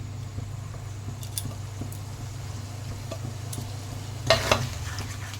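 Green beans cooking with grated paneer and water in a pan, a low steady simmering sizzle with faint stirring taps and one brief louder scrape near the end, no talk.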